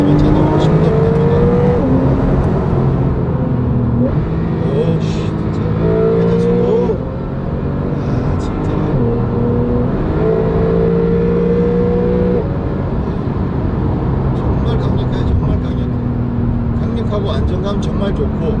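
A Porsche 911 Carrera (991 Mk2) engine revs up through the gears, its tone climbing in rising sweeps that drop sharply at each upshift, heard from inside the car with someone talking over it throughout.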